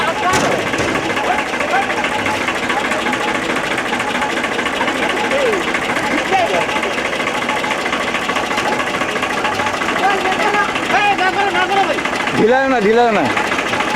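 A tractor with a trolley runs on a narrow road, its engine chugging steadily nearby while people talk over it and a horn-like tone sounds near the end.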